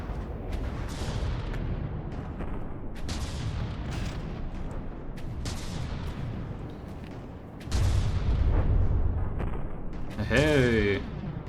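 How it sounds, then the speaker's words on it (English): Constant missile fire in the naval combat game From the Depths, a rapid stream of booming launches and blasts with heavy rumbling low end, continuous and loud while a player talks over it, with a brief warbling whine near the end. "Just the constant firing of missiles."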